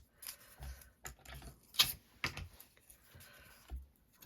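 Scissors snip through thin Amazon cardboard packaging in a few sharp, close, irregular cuts and crunches separated by short quiet gaps.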